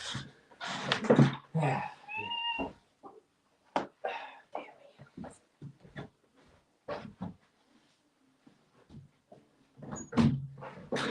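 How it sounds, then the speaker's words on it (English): A cat makes its entrance into a room indoors, with a short meow-like cry near the start and scattered soft knocks, bumps and rustles throughout, separated by quiet gaps. "And there's a cat in my room."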